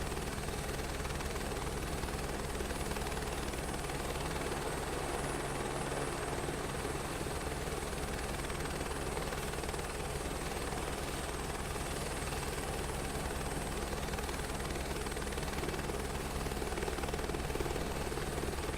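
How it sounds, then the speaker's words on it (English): Helicopter engine and rotor thrum steadily and loudly in Microsoft Flight Simulator during a tour over Hawaii, a constant dense drone with a fast rotor pulse and high whine, unbroken for the whole stretch. "A little bit of helicopter touring around Hawaii."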